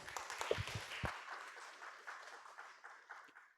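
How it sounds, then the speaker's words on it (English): Faint, distant clapping from a conference audience welcoming a talk on Axiom Space and Bulgaria, a soft continuous patter with a few sharper knocks early on. "Please, applause."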